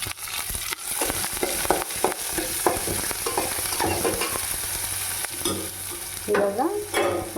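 Onions fry over a low gas flame while being stirred with a utensil, giving a continuous sizzle broken by frequent scraping and clinking strokes against the pan, fairly close and unaccompanied by speech.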